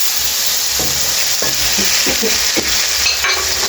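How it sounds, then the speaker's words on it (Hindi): Two chopped tomatoes tipped into hot oil in a frying pan while cooking an aloo matar vegetable dish, giving a loud steady sizzle with a few short scraping stirs and clatters, no talking. "अब मैं डाल रहा हूँ इसके अंदर टमाटर। 2 टमाटर है काट के रखे, ये मैंने डाल दिए हैं।"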